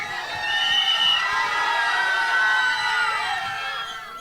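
A crowd at the Tere Ishk Mein trailer launch cheers and whoops for Dhanush, a loud swell of shouting that rises, holds for several seconds and then eases.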